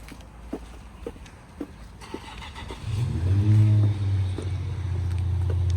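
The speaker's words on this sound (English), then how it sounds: "Nice little cold start." An Infiniti G35 cold-starting: a few faint clicks and taps, then the engine cranks and catches, revving up briefly before dropping to a steady, moderately loud idle.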